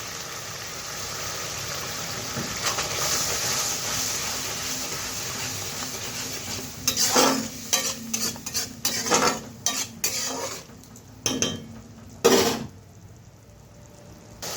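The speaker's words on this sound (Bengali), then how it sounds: "মশলাটা কষে গেছে" A spice paste of turmeric and Kashmiri chilli powder with sugar is stirred and fried in a pan for koi fish paturi, a steady sizzle giving way to a burst of close scraping and clattering spatula strokes.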